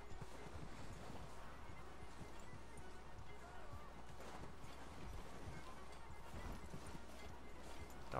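Horse hooves clip-clopping in the Red Dead Redemption 2 video game, a steady clatter of steps under game sounds, with speech present.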